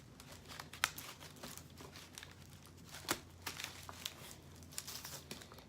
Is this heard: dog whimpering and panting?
no